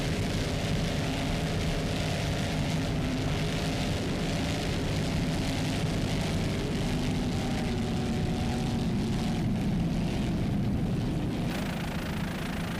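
Helicopter flying above a 2002 offshore powerboat race at Mallory Square, Key West, its steady rotor and engine roar loud and continuous, blended with the distant drone of racing boat engines and no talk.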